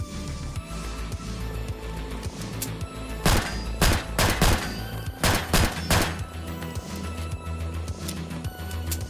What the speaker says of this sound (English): The next one is a handgun, Sig Sauer P320 by Dillarope.